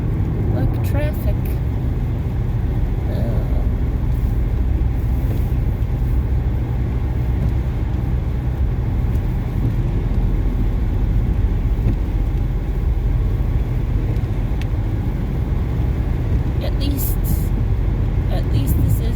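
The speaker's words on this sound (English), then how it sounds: "Look, traffic." Steady highway traffic heard from inside a vehicle on a cold, rainy commute: a continuous low road rumble and tyre hiss with occasional passing swells, fairly loud and unbroken throughout.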